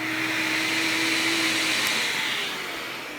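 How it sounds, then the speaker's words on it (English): A household vacuum cleaner runs steadily and close by, a continuous whooshing roar with a motor whine underneath, with no talk over it. "Okay, so here's my vacuum."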